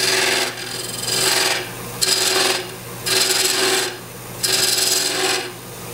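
A woodturning tool on a spinning lathe cuts a chamfer into wood, making four rhythmic rasping scrapes, each about a second long, separated by short pauses over a constant motor drone.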